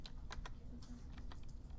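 A few sharp key presses on a computer keyboard, close and quiet clicks spaced irregularly over a couple of seconds, with no voices.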